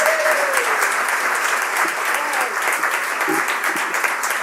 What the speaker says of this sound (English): can you please stand so that we give you your round of applause?